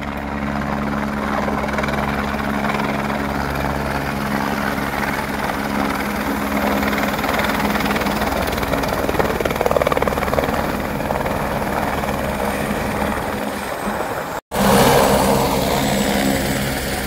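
A helicopter of the Kedarnath pilgrimage helicopter service makes a loud, steady rotor and engine drone throughout, with no talking. The sound drops out abruptly for a moment near the end, then returns.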